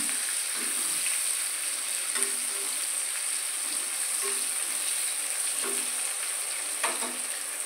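Steady, continuous sizzling of bitter gourd frying in oil and ghee, with a few faint scrapes of stirring and no voices.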